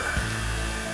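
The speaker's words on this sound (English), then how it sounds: "that's the dryer in the background here" A household clothes dryer running steadily nearby, a continuous even hum and whir with no breaks.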